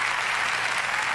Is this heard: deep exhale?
no